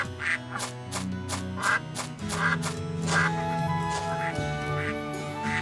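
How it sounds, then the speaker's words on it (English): Cartoonish ducks quack repeatedly in the Baten Kaitos video game, several short honking calls over steady background music with a busy, rowdy rhythm. "My ducks were startled and made quite a ruckus."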